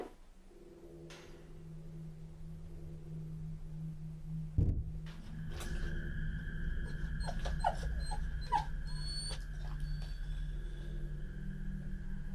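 Dogs whimpering and whining indoors, a run of high, wavering cries with a sharp thump partway through, fairly close and clear over a low background hum.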